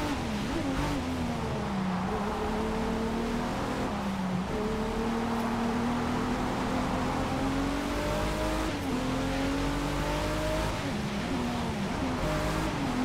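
A BMW Z4 M40i race car in Forza Motorsport at Circuit de Barcelona-Catalunya drones steadily, its engine pitch rising and dipping through gear changes. The sound is continuous and moderately loud, with no voice over it.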